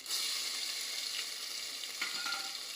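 Asafoetida and ginger-chilli paste hit hot oil for Swaminarayan khichdi, giving a steady, close, bright sizzle that crackles continuously for a few seconds with a couple of louder spits.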